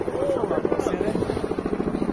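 Helicopter rotor thumping steadily throughout at Lake Furnas, Brazil, a rapid rhythmic chop fairly close and loud, with voices talking over it.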